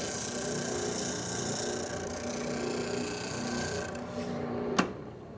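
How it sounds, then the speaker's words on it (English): Oscillating spindle sander working a wooden piece up to a marked line, a steady close rasping and rubbing hum over a motor drone that cuts off near the end with a sharp click. "I can work along here, sanding up to my line."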